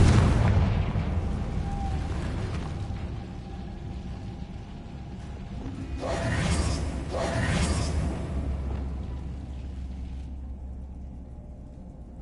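A Confringo blasting spell in Hogwarts Legacy goes off with a deep rumbling boom, then bursts of whooshing and crackling swell midway and fade into a low lingering rumble. A voice is heard faintly.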